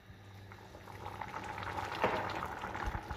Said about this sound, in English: As you can see, it's boiling beautifully.